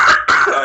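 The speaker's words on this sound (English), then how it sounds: "Cough away from the microphone." A loud, abrupt cough or throat-clearing right at the microphone during a hockey podcast, with two harsh bursts split by a brief gap.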